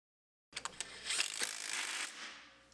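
Center bolts are started on the taper hub of an MP972 brush mulcher belt assembly, with a quick ratcheting wrench whir and metallic clicks, close and fairly quiet, fading out after a couple of seconds.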